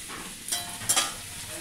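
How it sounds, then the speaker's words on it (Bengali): Potatoes frying in a pan, a close, steady sizzle lasting a brief moment with a couple of louder hissing swells, no talking. "আর এই যে দেখুন আলু ভাজা করছি"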